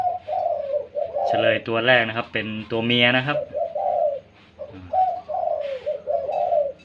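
Close, loud dove coos open the moment, then someone speaks briefly before a few softer coos return. A small-voiced dove and a medium-to-large-voiced dove are calling at each other.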